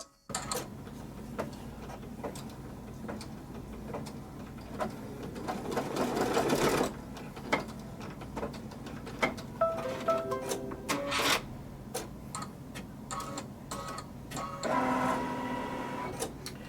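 An embroidery machine stitches a mini notebook cover in the hoop, giving a quiet, steady mechanical whir with rapid needle ticks and a few louder bursts of faster stitching.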